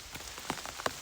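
Rain patters onto an umbrella held overhead outdoors in Vermont, a constant hiss of drops with a few sharper, louder taps close by.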